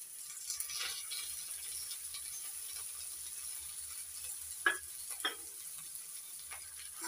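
Ginger-garlic paste fries with softened onions in a pan for a boal fish dish, a quiet steady hiss of sizzling with a few sharp spatula clicks and scrapes scattered through.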